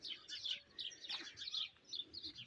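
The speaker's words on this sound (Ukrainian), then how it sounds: "Горобці співають." Sparrows chirp and twitter continuously in a spring garden in Ukraine at evening, a busy overlapping chorus of quick high calls close by with no voices.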